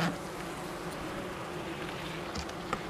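Honeybees humming at a heavily propolised hive, a steady, even insect drone that fills the whole short stretch at moderate volume with no voices.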